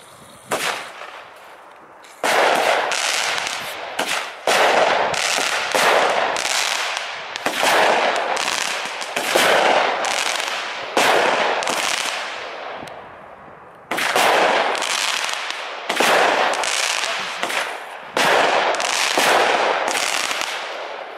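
New Year's Eve fireworks crackle and bang in long dense bursts, loud rapid pops layered over each other with brief lulls between volleys, no voices.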